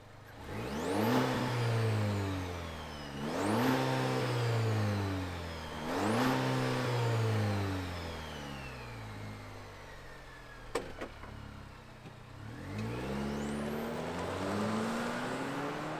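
A 2023 GMC Canyon Denali pickup truck engine revs loudly and accelerates through four or five rising gear pulls, each sweep climbing and then dropping, with a brief click near the end and no talking.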